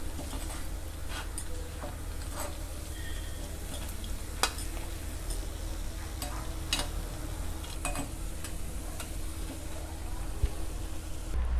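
Millet paniyaram sizzling and frying in a paniyaram pan, a steady close crackle with scattered small ticks and clicks throughout, no talking.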